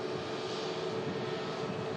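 A Pegasus Airlines airliner arriving at an airport from Antalya gives a steady, distant engine rumble and whine that stays even throughout, with no voices.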